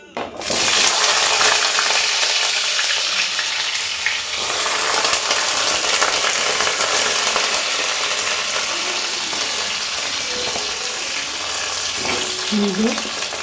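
Carrots and other vegetables hitting a hot pan for khichuri, a loud dense sizzle that holds steady throughout with a faint voice near the end.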